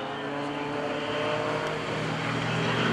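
An aerobatic airplane rolling during an airshow at Greenwood Lake, a steady, loud engine drone that swells slightly as it passes, with no voices.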